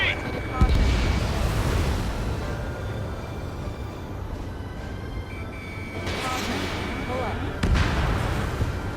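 Heavy bombing in the flight combat game Ace Combat 7 rumbles with deep, booming explosions, loud blasts near the start and later, over a continuous low roar with a voice heard partway through.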